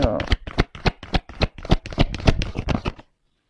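Tarot cards drawn and handled in a quick run of sharp flicking, riffling snaps that come close and crisp for about three seconds and then stop into silence.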